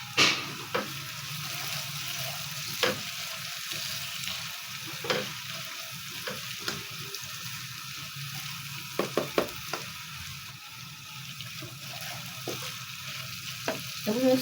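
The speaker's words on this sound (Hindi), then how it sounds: "अभी मैं इसके अंदर ये पानी डाल रही हूँ।" Potatoes and moong frying in a pan give off a steady, close sizzle as water is poured in, with scattered stirring clinks and scrapes throughout and no talking.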